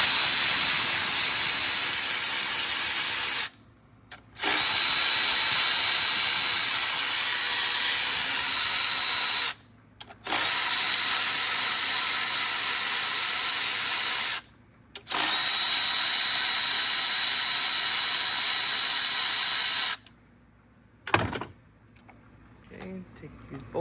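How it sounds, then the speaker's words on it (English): An electric ratchet removes the ignition coil bolts on a 2016 Chevy Malibu 1.5T, whirring loudly in four long runs separated by short pauses. Quiet clicks and handling noises follow the final run. "I'm going to use the electric ratchet to do so."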